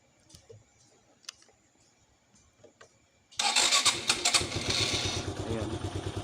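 A car on a weak 12-volt battery ticks and clicks faintly for a few seconds, then its engine suddenly catches and runs loud and steady at close range, with a voice briefly audible early on.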